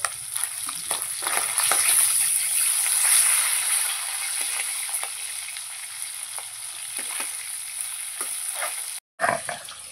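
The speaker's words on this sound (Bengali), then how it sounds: "মাছগুলো একটু উল্টে দেবো" Pieces of stinging catfish frying in a pan of hot oil give a steady, close sizzle, broken by a few soft scrapes and taps as the pieces are turned over, with a brief silent gap near the end.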